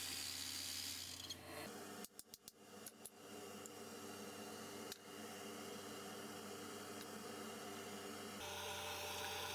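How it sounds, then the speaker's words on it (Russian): Jigsaw cutting lengthwise along a small, hard-to-hold workpiece, a steady close rasping drone that runs almost the whole time, broken by a short cluster of clicks and knocks and a brief dip in the middle. "Пиление вдоль заготовки менее комфортно, чем поперек, как и в дереве, видимо."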